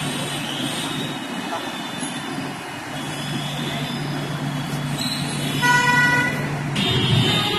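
Traffic noise in a busy Delhi wholesale market, a steady roar of vehicles with a low engine drone and, near the end, a high squeal or horn-like tone, a voice talking over it.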